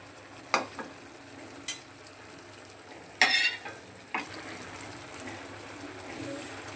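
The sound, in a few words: spice paste added to pot, frying and stirring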